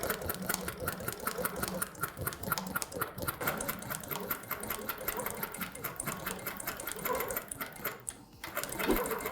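Longarm quilting machine sewing a long basting stitch on a patchwork quilt, a steady rapid mechanical chatter of needle strokes running continuously at close range, with no talking.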